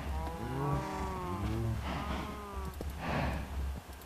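Cows in the Minecraft video game moo in a farm pen, several long, low, drawn-out calls following one another close by, with some soft game noise under them and no speech.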